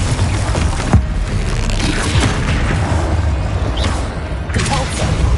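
Confringo spell explosions in the video game Hogwarts Legacy, heavy booming blasts and thuds rolling together with crackling bursts over a dense, loud battle din, with a voice faintly present.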